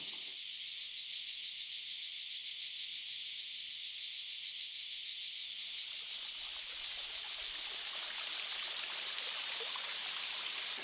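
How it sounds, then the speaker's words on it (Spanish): Water flows down a ravine in La Manchuela, Spain, a steady, even rushing hiss that continues alone throughout and grows slightly brighter partway through. "el agua, en su transcurso por el barranco, formará otro nuevo toyo"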